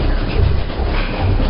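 Train sound effect opening a horror podcast, a loud continuous rumbling roar of rolling rail cars with a muffled, band-limited tone and no talk.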